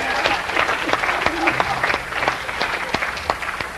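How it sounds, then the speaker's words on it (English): An audience at the DEF CON hacking conference claps, a lively crackle of many hands with sharp individual claps popping out, steady and fairly loud, with some voices and cheering mixed underneath. "You gotta clap for that."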